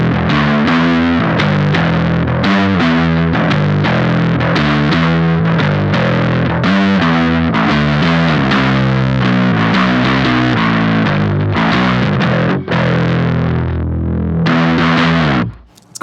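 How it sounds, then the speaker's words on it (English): A Beetronics Nectar fuzz pedal drives an electric guitar played with both pickups, giving a loud, thick, saturated tone through a continuous run of chords and riffs that cuts off abruptly near the end. "I'm gonna go with both of them and hear how that sounds."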